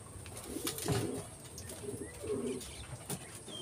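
Soft, low pigeon coos repeat a few times at a close distance over a faint background hiss.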